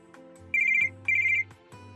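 A telephone ringtone plays two loud, steady ringing bursts with a pause between them as a call to a mother goes through, with no talking.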